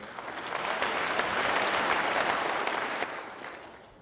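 Audience applause for a governor's State of the State address, a dense burst of clapping that swells, holds steady for a few seconds, then tapers off toward the end.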